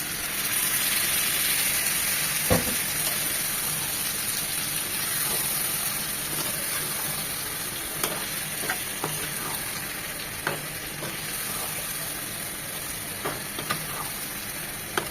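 Mutton sizzles steadily on a flat tawa after boiled stock is poured in, a continuous frying hiss with occasional sharp clicks of a spatula against the pan.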